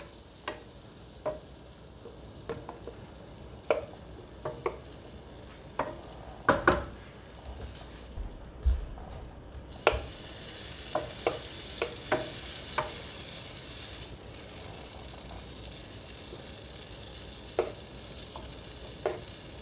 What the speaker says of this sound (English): The butter's melted enough, it's covering the pan now.